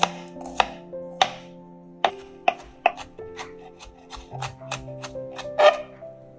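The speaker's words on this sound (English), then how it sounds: "Chop up the shallots." A knife chops shallots on a cutting board in a series of sharp, close taps, irregular at first then quicker, with no talking.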